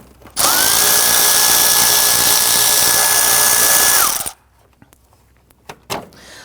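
A power tool, likely an impact driver or drill, loosens and removes a bolt on the fan assembly of a 2012–2019 Ford Taurus, running loud and steady for about four seconds before a few faint metallic clicks and handling sounds.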